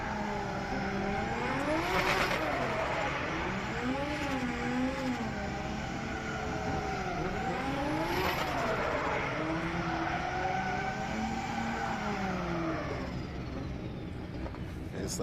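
Drift car engine at a DriftWars competition at Manfeild, New Zealand, droning and rising and falling in pitch continuously with tire squeal, heard from a distance under a commentator's voice over the PA.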